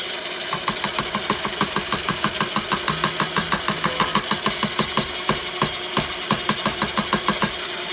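An electric mixer creams pound cake batter up close, a steady motor whir broken by quick, evenly spaced clacks that repeat throughout, with no voices.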